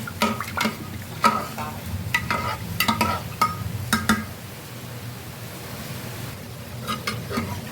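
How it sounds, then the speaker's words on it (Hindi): Hot tempering of spiced oil is poured into dal and stirred in a pan, sizzling and crackling with sharp bursts of spattering that fade to a steady hiss. "मैं दाल में इसे डाल दूंगी इस तड़के को"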